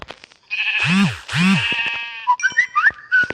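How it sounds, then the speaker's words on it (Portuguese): A sheep in the game Minecraft bleats twice, loud and close, followed by a quick run of bright whistling game effects. "Tem que bater a ovelha."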